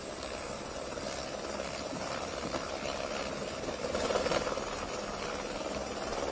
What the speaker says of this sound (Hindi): लगातार पहाड़ों में हेलीकॉप्टर की उड़ान का शोर सुनाई दे रहा है